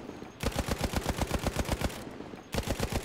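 A light machine gun hip-fires in Battlefield 1, producing a rapid, loud string of evenly spaced shots that stops for a brief pause and then resumes with another sustained burst.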